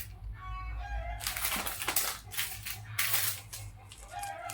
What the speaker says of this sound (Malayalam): അയൽവക്കത്തെ കോഴികളാണ് കേട്ടോ സൗണ്ട് ഉണ്ടാക്കുന്നത്